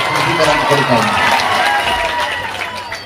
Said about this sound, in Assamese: এবাৰ জোৰকৈ এটা হাত চাপৰি হৈ যাওক আবাহন থিয়েটাৰ